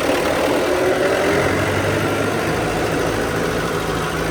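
Tractor engine idling near a workshop, a loud, steady low rumble with constant vibration that holds unchanged throughout, close by and with no speech over it.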